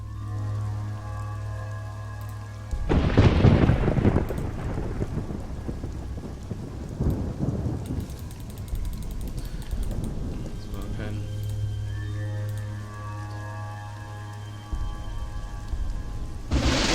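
Steady rain patters through a storm in the PC adventure game AlternativA, and a deep rolling thunderclap booms in partway through, with someone talking over the weather.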